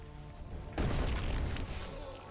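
A God's Trigger attack explosion bursts in with a sudden low boom partway through, after a quieter stretch, then rumbles on as a sustained crash with dense game noise.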